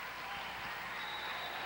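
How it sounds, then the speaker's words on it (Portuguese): Brazilian spectators applaud a Canadian play at a 1999 Pan American Games volleyball match, a steady, dense wash of crowd clapping with faint voices mixed in. "o torcedor brasileiro, a gente viu ali aplaudindo a jogada da seleção canadense"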